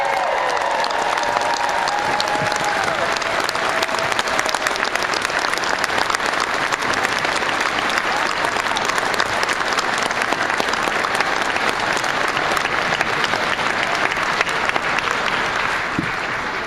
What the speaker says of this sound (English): I'll clap for him because it's the right thing to do